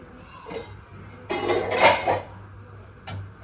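A metal ladle scrapes and clinks against a pot while chicken biryani gravy is served, a few close clattering knocks with a short louder scrape in the middle.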